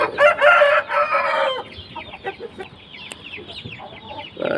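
Close by, a Lakha Aseel rooster of a big-size Indian line sounds off in a loud burst of crowing over the first second and a half, then trails into softer scattered clucks and rustling.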